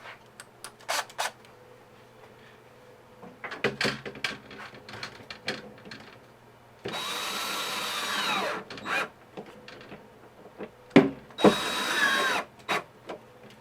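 Screws are driven into plastic panels of a homemade snake egg incubator, with two sustained bursts from a power driver between lighter handling clicks and knocks nearby.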